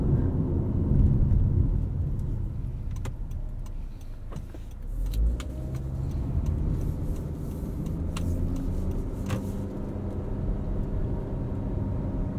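The four-cylinder engine of a 2023 Honda CR-V EX-L AWD hums low and steady from inside the cabin, rising gently in pitch as it accelerates to about 3,000 RPM, with road noise underneath.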